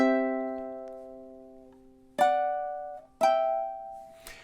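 Ukulele strums measure five of a song: a ringing chord that slowly decays, then two sharp strummed chords about a second apart, and the start of another at the end, played alone with no talking.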